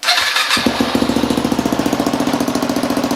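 An engine is cranked and catches after half a second, then settles into a loud, rapid, evenly pulsing chug that runs steadily with no voices.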